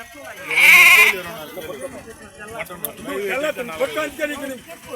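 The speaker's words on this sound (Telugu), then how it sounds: "ఇవి అంతా మేకలు ఉన్నాయి" Goats and sheep bleat at the Punganur livestock market, one loud bleat standing out early and then fading into busy crowd chatter and people talking nearby.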